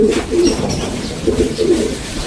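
Pigeons kept for shipping to a new owner coo in low, throaty, repeated rolling calls, close and fairly loud, with a couple of coo phrases over steady background noise and no talking.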